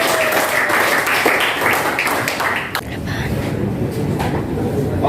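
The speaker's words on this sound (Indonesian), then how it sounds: "tepuk tangan yang luar biasa untuk kelompoknya." Students in a classroom clap for a group that has just presented in a chemistry lesson, a dense burst of applause mixed with voices and chatter that thins out midway and then continues more loosely.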